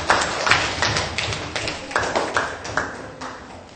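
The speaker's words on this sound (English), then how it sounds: "Give yourselves a big clap." Young children in a primary classroom clap together in a few loose, uneven bursts, the claps close and bright, with a bit of voice mixed in.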